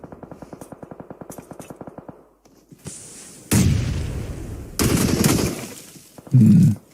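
Grenade blasts and gunfire in the mobile battle royale game PUBG Mobile, heard during an esports match: a rapid run of gunshots, then several loud broad booming bursts, each cut off sharply.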